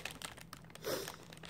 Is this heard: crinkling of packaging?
yes